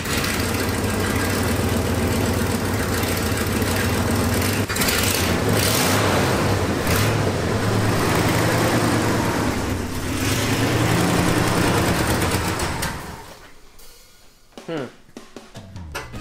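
Engine of a 1974 Ford F-250 held at fast idle with the gas pedal down, a loud, steady rumbling drone that drops off near the end, with talk over it.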